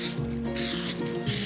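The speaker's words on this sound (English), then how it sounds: "we're going to spray it with just a little bit of cooking spray." Two bursts of pressurized cooking spray hissing out of a can onto a pan, each lasting about a third of a second, close and loud.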